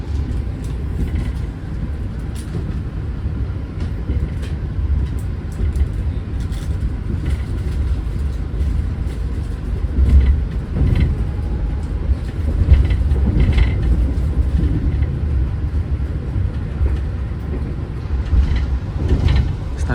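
KA Taksaka executive train rumbles as it brakes and slows to a stop, a continuous low mechanical drone with intermittent clanks and squeaks heard from inside the carriage, loud and steady throughout.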